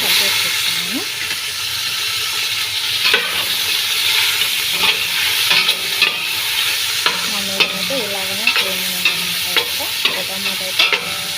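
Chopped tomatoes fry in a pan with a steady hiss and sizzle while a utensil scrapes and stirs in repeated strokes, close by under occasional talk.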